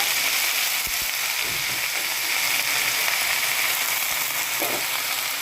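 Freshly washed wet spinach hits a hot pan with a steady bright hiss, sizzling evenly all the way through with faint stirring knocks underneath.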